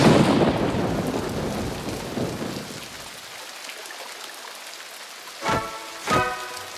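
A cartoon sound effect of rain and thunder opens with a loud rushing downpour and rumble that fades away, followed by two short bright chiming hits near the end.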